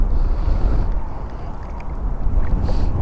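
Outdoors while fishing, wind roars and buffets against the microphone in a steady low rumble that persists through the whole moment, loud and close with no voices.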